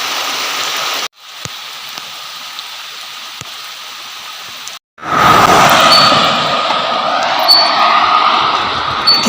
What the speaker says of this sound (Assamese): বৰষুণ দিয়া আছে মানে বৰষুণ মানে একদম